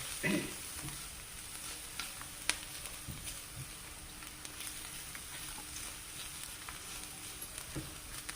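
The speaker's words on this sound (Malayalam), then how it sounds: "ഇനി നമുക്കതൊന്ന് മുളകിൻ്റെ ആ പച്ചപ്പ് മാറുന്നവരെ ഒന്ന് ഇളക്കി കൊടുക്കാം" Green chillies sprinkled with pepper powder fry in a pan for chutney, giving a faint, steady sizzle with occasional light scraping clicks from stirring. No one speaks.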